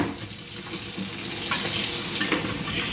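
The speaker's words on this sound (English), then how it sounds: "let me wash my hands" Hands being washed under a running tap at a sink, a steady close splashing stream of water that continues throughout with no voices.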